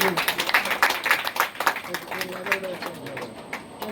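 Scattered hand clapping from a small crowd at a traditional sweet-giving wedding ceremony in Kerala, uneven bursts of claps mixed with lively chatter and voices throughout.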